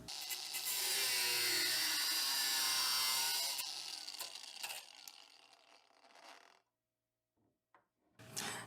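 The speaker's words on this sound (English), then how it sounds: "Now I'm just going to cut this bolt a little bit so it's not so long." A power tool cuts a metal bolt to shorten it. A loud, steady high-pitched whine and grind lasts a few seconds, then winds down and stops, followed by quiet and a few light handling clicks.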